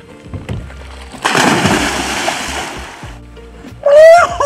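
A person jumps into pond water with a loud close splash, followed by seconds of sloshing, churning water and then a brief exclamation.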